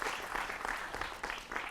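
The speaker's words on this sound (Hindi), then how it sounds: "जोरदार तालियों से उनका भी स्वागत।" A short burst of dense clapping from a television studio audience, steady and full throughout, with no one speaking over it.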